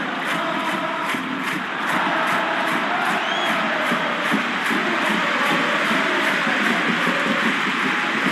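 Frustrated football crowd in the PES video game during a Real Madrid vs Getafe LaLiga match, a dense, steady roar of stadium noise with murmuring and rising disapproval, loud and continuous throughout.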